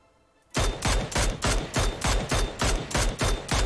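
Rapid bursts of P90 submachine gun fire in PUBG, about a dozen loud, evenly spaced volleys in a steady driving rhythm after a brief quiet start, with no voices.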